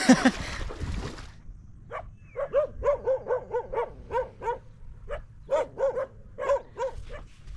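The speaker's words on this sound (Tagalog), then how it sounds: "Kaya ang daming aso." Several dogs bark in quick repeated bursts at a spot near Kanipo in the Philippines, fairly close and loud, after a short rustling noise at the start.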